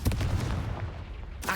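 A fiery Confringo blast spell from the Hogwarts Legacy video game booms out in a heavy low rumble, with a burst of crackle near the start and a sharp new hit right at the end, with no talking.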